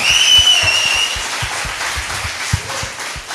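An audience in a gathering hall cheers and claps together, a loud, sustained wash of shouting with a whistle-like squeal early on and scattered claps punctuating the crowd noise.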